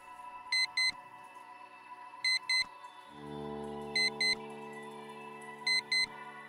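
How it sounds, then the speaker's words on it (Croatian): Paired short electronic beeps from an alarm clock repeat at steady intervals, while midway a low, sustained droning tone joins in underneath and continues to the end. "Drugi alarm."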